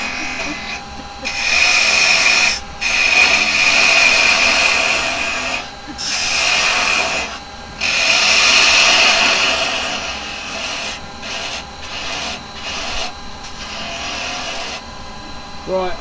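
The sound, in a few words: woodturning on a lathe with carbide chisels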